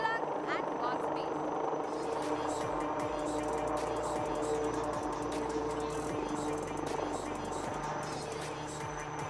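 A HAL Light Utility Helicopter landing at the Aero India air show, a steady rotor and turbine drone with a low pulsing beat, heard under a public-address commentator's voice.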